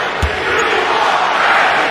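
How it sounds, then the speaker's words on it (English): A home crowd at a Madison Square Garden basketball game, a dense roar of voices filling the arena with a swelling chanting murmur, loud and sustained, with a brief low thump near the start. "And the chant of "We want Frank," who's starting here at the Garden."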